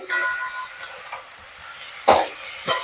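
Spinach stalks with poppy seeds and salt get stirred in a pan, a faint low sizzle broken by a few soft scrapes and two sharper spatula knocks near the end, close and without talk.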